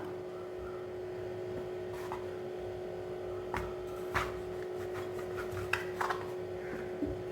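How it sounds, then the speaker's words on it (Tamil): Samosa pastry sheets rolled out thin like chapati on a board, giving a soft, steady rubbing rasp with a few sharper knocks, faint over a constant electrical hum. "இப்படி சப்பாத்திக்கு மாதிரி நீல வாக்கில் தேய்ச்சிடுங்க"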